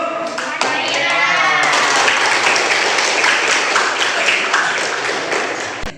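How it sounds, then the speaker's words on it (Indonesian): Classroom applause during a lesson on ritual purity: a burst of clapping from a group, likely children, fills the room at close range for several seconds, with a teacher's voice briefly audible before it. "Tepuk tangan untuk"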